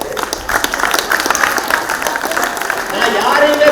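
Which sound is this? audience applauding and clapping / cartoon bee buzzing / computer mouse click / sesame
audience applauding and clapping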